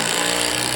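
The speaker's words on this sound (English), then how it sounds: "Love my impact driver." Close, buzzing rattle of an impact driver driving lock line headlock screws into mezzanine framing, a short continuous burst of rapid hammering.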